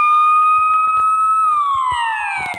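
A loud, piercing siren wail from the Siren Head mob in Minecraft PE holds steady tones, then slides downward in pitch, with faint clicks and taps underneath.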